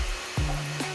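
Table saw cutting the last side of a wooden box lid, a short burst of blade rasp through wood over a steady motor whine, close and fairly loud.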